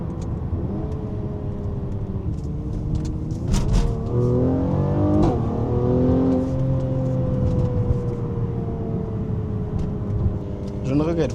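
A Mercedes-AMG GLC 43 engine revs up and holds a rising, sustained growl, loud and close, with a few brief sharp pops, while a voice talks briefly underneath.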